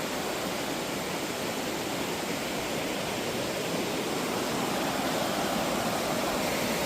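A river near a hidden temple at Erumeli flows with a steady, broadband rushing roar, continuous and close, with no voices over it.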